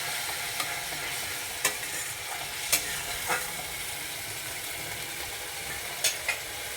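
Turmeric spice paste stirred in a hot pan, a steady soft sizzle with a few sharp scrapes and taps of the spoon spaced out over several seconds, no talking.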